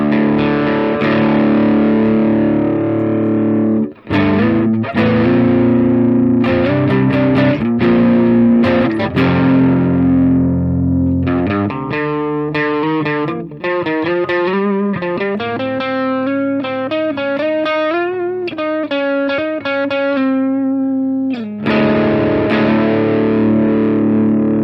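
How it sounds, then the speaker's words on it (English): Electric guitar through a Tube Screamer overdrive pedal on the bass tone setting, with a crunchy, sustained chords and riffs followed by note runs, played continuously with no talking. "So let's hear the bass tone for the Tube Screamer."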